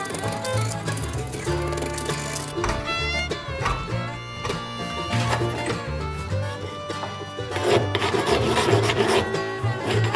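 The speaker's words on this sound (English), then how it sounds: "So this finer edge on the file is getting rid of all the little bumps." Wooden handle of a small vintage hewing axe being filed by hand: continuous loud rasping strokes in a steady back-and-forth rhythm, close up, with no talking.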